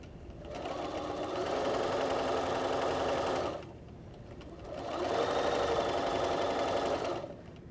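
Sewing machine stitching a half square triangle quilt block, two steady whirring runs of close needle chatter separated by a brief pause.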